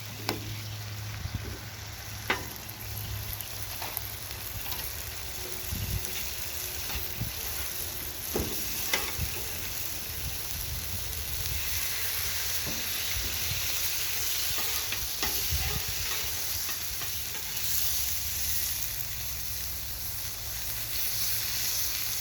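A burger sizzles steadily on a hot oiled griddle at a cookout, a continuous close frying hiss with occasional scraping clicks, and no talking.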